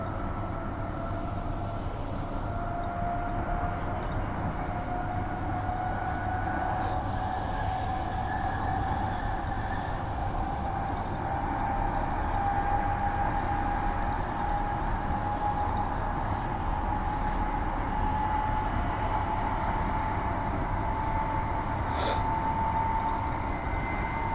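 A commuter train runs between stations with a steady rolling rumble and a rising whine from the motors, a continuous moderate drone heard from inside the carriage.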